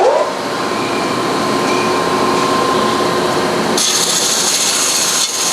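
A bandsaw fitted with a 3/4 inch wide, 3 tooth per inch blade cuts through PET foam, giving a loud, steady whirring drone with a hissy cutting texture that brightens partway through and carries on without talk.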